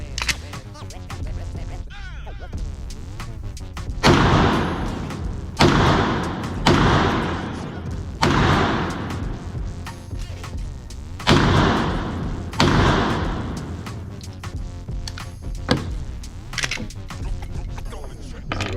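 Several rounds fired from a firearm fitted with an OLight OSight green dot optic, heard as sharp, loud reports spaced a second or two apart, each with a short decaying tail, over a low steady background.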